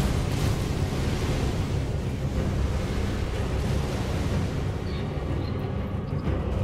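A fire attack in the video game Elden Ring, a dense, continuous roaring whoosh like a blazing eruption, loud and steady for several seconds with no voices over it.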